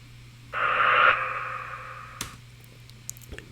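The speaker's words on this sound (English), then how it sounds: "I just reversed the reverb tails into kind of a riser, and they're high pitched." A bright, high-pitched swelling whoosh made from reversed reverb tails rises and sustains for about two seconds, then cuts off abruptly, followed by a few faint clicks.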